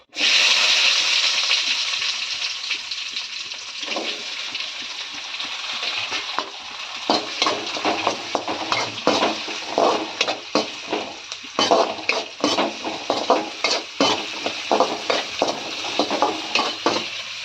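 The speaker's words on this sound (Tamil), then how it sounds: "இப்போ பட்டையெல்லாம் பொழிஞ்சிட்டு நம்ம வெங்காயம் சேர்த்துக்கலாம்" Onions frying in oil with cumin and cinnamon, starting as a loud even sizzle, then turning into busy stirring with repeated scrapes, clinks and splashy crackles from the pan.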